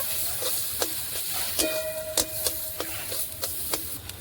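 Boiled figs, fried fish and potatoes being stirred into spice masala in a pan, with a steady sizzle and repeated sharp scrapes and clinks of a spatula against the pan at irregular intervals, close and fairly loud.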